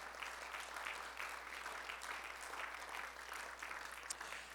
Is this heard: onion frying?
no